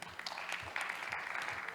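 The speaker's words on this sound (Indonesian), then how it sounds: "Tepuk tangan dulu." An audience at a tourism forum in Lombok claps in a brief, steady round of applause, heard faintly and at a distance.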